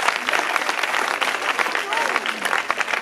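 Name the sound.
audience applause for Jesus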